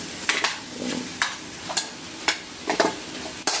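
Pork feet sautéing in a pan, with a steady sizzle broken by repeated sharp scraping stirs of a spoon against the pan, close and fairly loud, no one talking.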